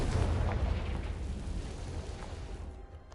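A Confringo fire spell explodes in the Hogwarts Legacy video game near an Acromantula cave, a loud deep boom and rumbling burst that slowly fades over three seconds.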